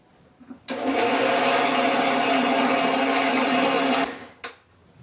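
A kitchen mixer grinds whole spices into a fine paste, a loud steady high-pitched whir that starts abruptly, runs evenly for about three seconds, then cuts off, followed by a short burst.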